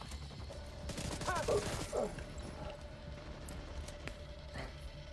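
Scattered gunfire in the Rainbow Six Siege video game, a couple of quick, fairly faint bursts of shots early on, followed by softer, sporadic pops over a low background hum.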